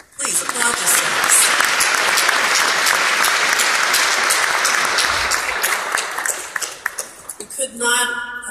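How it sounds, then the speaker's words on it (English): Loud, sustained applause from the audience at an interfaith breakfast, a full room clapping steadily for several seconds before it thins out into scattered claps near the end. "Please applaud yourselves."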